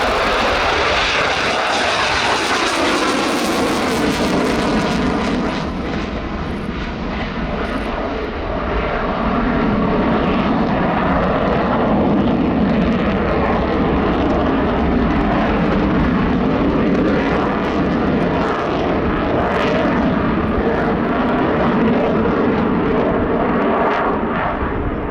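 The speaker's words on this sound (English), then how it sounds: "from the Swiss Air Force, this is Captain Nicolas Rossier with the McDonnell Douglas, now Boeing FA-18C Hornet" A Swiss Air Force McDonnell Douglas, now Boeing, F/A-18C Hornet flies a display at an air show, its jet engines roaring loudly and continuously for the whole stretch, swelling and shifting as the jet passes.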